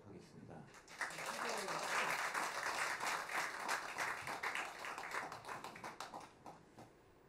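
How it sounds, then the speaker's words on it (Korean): Warm audience applause fills a hall at a traditional Korean music concert, rising quickly into dense, sustained clapping that gradually thins and fades toward the end. "그럼 이승훈 군의 심청가에서 신봉사 눈뜨는 대목을 여러분들의 뜨거운 박수로 모시도록 하겠습니다"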